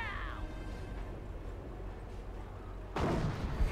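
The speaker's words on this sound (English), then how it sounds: "Artillery trying to hit these repair bunkers again" Artillery fire in the World War II strategy game Company of Heroes: a continuous low rumble of battle noise, then a sudden loud blast near the end, with no voices.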